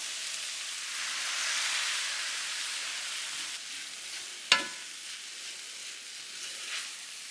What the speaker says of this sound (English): also had the shaved steak cooking over here. I'm just going to add that in. And then in goes our sauce.